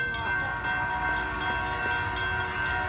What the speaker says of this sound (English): This time it's actually honking.